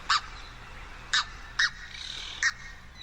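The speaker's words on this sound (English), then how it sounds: "It's the red-breasted goose." Red-breasted goose, a globally endangered species, giving four short, sharp, high calls spaced irregularly over about three seconds, fairly clear above a faint background hum.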